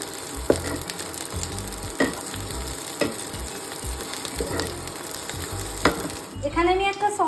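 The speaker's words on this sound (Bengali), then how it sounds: "কড়াই তেল গরম করে পেঁয়াজ কুচি দিয়ে দিয়েছি" Chopped onion fries in hot oil in a kadai, a soft, steady sizzle punctuated by periodic spatula clacks against the pan, with a brief voice near the end.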